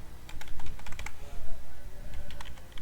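Rapid typing on a computer keyboard while entering HTML code, a dense patter of close, crisp key clicks in uneven bursts with no talking.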